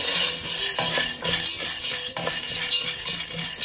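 A spoon stirs vegetable soup in a pot over low heat, giving continuous close scraping and clinking against the pot with a soft sizzling bed beneath, rhythmic and fairly loud.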